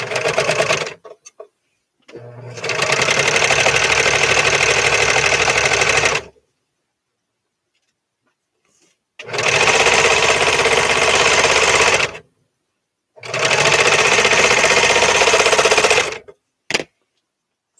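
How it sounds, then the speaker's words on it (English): A noisy home sewing machine stitches in three long loud runs of rapid, even clatter, close up, separated by silent pauses and ending with a brief final burst. "my machine is so noisy"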